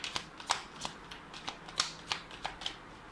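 Tarot cards being shuffled by hand, a run of crisp riffling bursts in an even rhythm, close and fairly quiet, with no voices.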